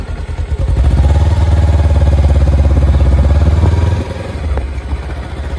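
A new Kawasaki Ninja 300 motorcycle on a test drive runs with a loud, close engine drone and steady rhythmic pulsing that holds for several seconds, then drops to a quieter, rougher idle-like throb near the end.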